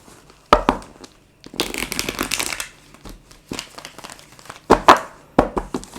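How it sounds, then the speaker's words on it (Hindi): Tarot cards being drawn and handled from a deck: several sharp papery crinkles and rustles in bursts, close and fairly loud, with short pauses between. "3 कार्ड निकालें प्लीज़।"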